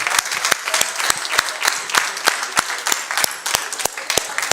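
A church congregation breaks into loud, sustained applause, dense rapid clapping filling the room without pause, close and energetic, with no speech over it.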